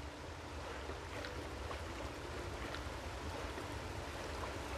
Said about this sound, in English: There's always something behind the waterfall.